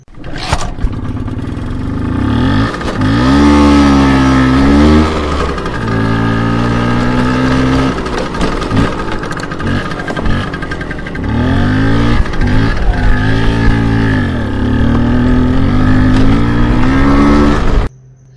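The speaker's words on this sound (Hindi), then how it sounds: "दोनों बहुत स्मार्टली 80 स्पीड में स्कूटी भगाकर शमशान की तरफ जा रही थी।" A scooter speeds along at about 80, its engine buzzing loud and steady with repeated revs rising and dipping in pitch throughout.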